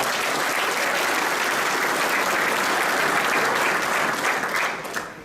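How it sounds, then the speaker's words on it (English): Sustained, dense applause from a graduation audience fills the room at an even, loud level, thinning slightly only in the last moments. "So could we please give a round of applause?"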